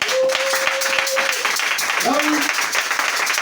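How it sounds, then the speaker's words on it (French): A church congregation applauds, with steady clapping filling the hall while a preacher's voice carries over it. "acclamons d'abord le Seigneur"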